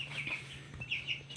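Broiler chickens cluck and peep in a brooding pen, a few soft, high calls close by over a steady low hum.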